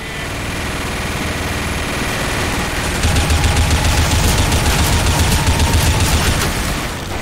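Team Fortress 2 gunfire rattles in a sustained rapid stream against a low engine-like drone, loud and continuous, intensifying about halfway through with no talking over it.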